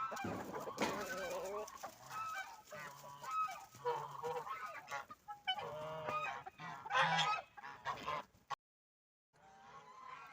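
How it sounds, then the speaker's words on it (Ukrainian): Chickens cluck and squawk nearby, a busy flock calling in uneven bursts with louder honking cries, briefly falling silent near the end. "Отак кури їдять."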